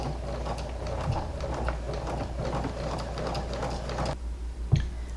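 A sewing machine stitches a seam through fleece along the top edge of a stocking hat, a rapid continuous mechanical chatter that stops near the end, followed by a single click.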